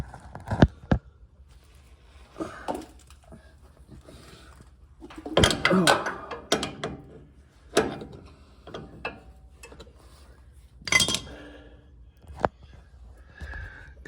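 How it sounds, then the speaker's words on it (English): A crescent wrench works loose the tie rod on a 2015 Ford F150 Sport, giving irregular close metallic clanks, ratcheting scrapes and knocks in scattered bursts, with occasional sounds of handling in between. "Just got the crescent wrench on there. See if we can get this one to break loose."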